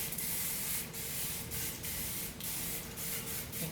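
A facial mist spray bottle releases a series of close, hissing mists in short repeated bursts, each separated by a brief pause.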